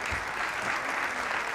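Audience applause with cheering at a lively university gathering, a steady, dense wash of clapping that stays even and sustained throughout, without talk.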